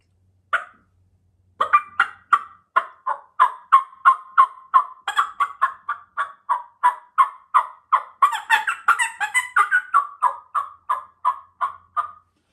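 Hen turkey yelping imitated on a mouth call: a long, evenly paced run of about thirty crisp, close yelps, clear and alone with no other sound.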